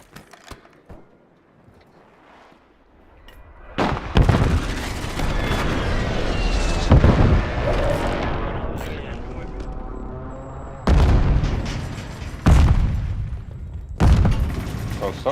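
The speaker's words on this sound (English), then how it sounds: "somebody's angry with these grenades" Several heavy booms of grenade explosions in Call of Duty Warzone, a loud sustained blast from about four seconds followed by sharper repeated bursts near the end, with someone talking over the gameplay.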